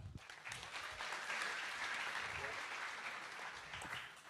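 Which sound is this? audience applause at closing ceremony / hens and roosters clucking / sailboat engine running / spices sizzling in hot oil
audience applause at closing ceremony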